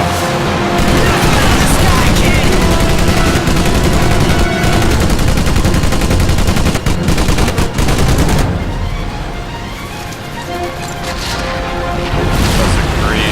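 Dense, continuous gunfire and explosions from a World War II combat video game set during the attack on Pearl Harbor, with anti-aircraft fire aimed at planes, loud and sustained throughout with a brief lull near the end.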